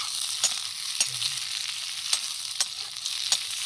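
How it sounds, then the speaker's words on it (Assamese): Chicken pieces and onion fry in a pan at an outdoor night camp, giving a steady close sizzle with a few sharp clinks of a utensil against the pan and no voices. "খাটাৰনাক হ'ব ভাজি এখন"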